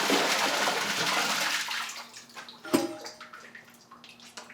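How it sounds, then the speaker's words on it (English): A home toilet flushes with a loud rushing surge of water that slowly fades into gurgling and trickling in the bowl, close by and heard on its own. "Give it another flush."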